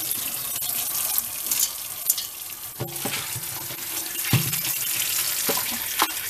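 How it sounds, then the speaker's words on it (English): Water is poured from a tap into a pot of cooking lima beans, a continuous splashing gush with a few sharp knocks and clinks, close and fairly loud. "I know that I'm gonna add some more water to mine"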